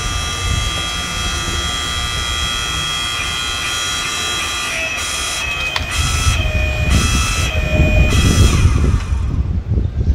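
A Central Machinery 5-ton log splitter drones steadily on a piece of very hard wood, its hydraulic motor whining with a high tone and growing louder and rougher as it strains against the log.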